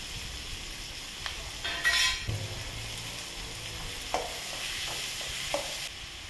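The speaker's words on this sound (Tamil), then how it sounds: "இப்போ வந்து இந்த தக்காளியை நம்ம அது கூட சேர்த்துக்கலாம்" Chopped tomatoes go into a pan of sautéing onions, making a quiet sizzle with a brief clatter as they land, then soft stirring scrapes and light clinks.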